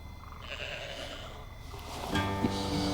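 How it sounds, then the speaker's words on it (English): A pet sheep gives a drawn-out bleat, followed by a louder wavering bleat near the end, close and clear with no talking. "Just a pet sheep named Cyril"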